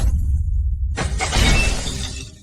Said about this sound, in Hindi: मॉडल टूट गया है। ये मॉडल लाखों रुपए का है।